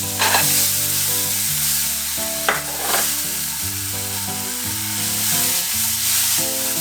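Tomatoes sizzle steadily in a hot frying pan under a layer of background music, with a couple of brief clatters from stirring.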